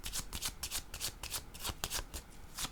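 Tarot cards are shuffled in quick riffling bursts, a close, brisk papery flutter repeating roughly a dozen times in under three seconds.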